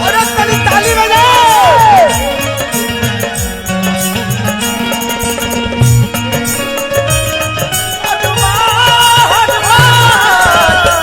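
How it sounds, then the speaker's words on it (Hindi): A large crowd claps and cheers at a Hindu devotional stage performance at Balaji Bhagyeswar Dham, with rhythmic clapping and shouts over loud amplified music with sung melodic lines and drums throughout. "और ताली बजाओ"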